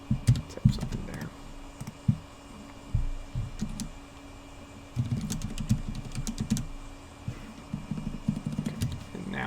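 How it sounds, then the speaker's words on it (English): Typing on a computer keyboard while setting up a World of Warcraft Classic server: a run of small, irregular clicks carries through the clip, with soft low thumps and quiet background noise underneath. "Type something there."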